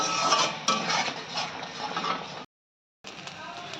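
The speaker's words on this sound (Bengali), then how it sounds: "মশলাটা আমি এবার কষাবো।" Masala for coconut chicken fries and is stirred in a pan, making a steady, close sizzle with scraping. It cuts to silence for a moment and then resumes.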